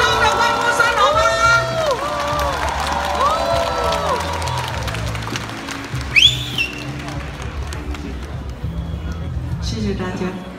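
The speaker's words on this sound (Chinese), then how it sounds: "让我们以热烈的掌声来感恩师尊好吗" Crowd at an autumn Dharma assembly and book-signing event cheering and applauding, a broad sustained roar with whistles, voices speaking over it at first, a bright sharp whistle burst midway, then the crowd noise continuing.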